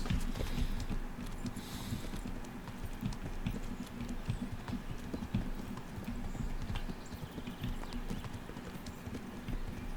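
Horse hooves clip-clop steadily through the video game Kingdom Come Deliverance, a continuous brisk riding rhythm over a busy background bed, with no talking.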